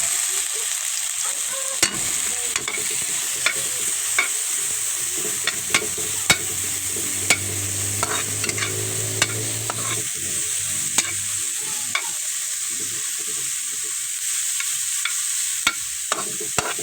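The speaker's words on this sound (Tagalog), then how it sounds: "Ngayon po, hahaluin naman po natin ito." Garlic, onion and tomato sauté in a pan while being stirred, a continuous frying sizzle broken by frequent sharp clicks and scrapes of the utensil against the pan, close and steady.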